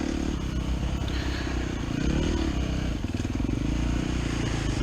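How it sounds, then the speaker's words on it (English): A KTM 350 dirt bike engine runs with a rough, rapid-firing mechanical clatter. It is close and loud, with the pitch shifting slightly midway as the throttle changes, and the sound is steady throughout. "This KTM 350 is very powerful, yet manageable."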